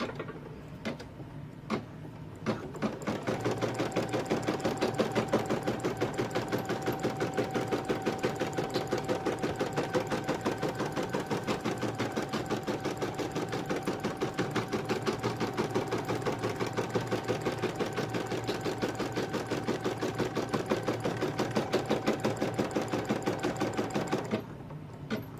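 An embroidery machine rapidly stitches a tack-down line on a monkey lovey, a fast, even mechanical chatter of needle strokes running steadily for about twenty seconds before stopping, with a few isolated clicks at the start.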